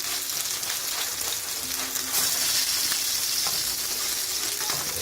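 A steak sizzles loudly and steadily in a frying pan, a dense continuous crackle with a brief surge partway through, close and without talk.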